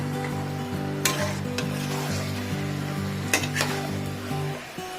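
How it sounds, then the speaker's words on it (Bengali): Mutton frying in a pan for a light Bengali-style curry is stirred with a utensil, giving a steady sizzle with occasional scraping clinks against the pan over a low droning hum. "মাংসটা মাঝে মাঝে একটু নাড়াচাড়া করতে হবে"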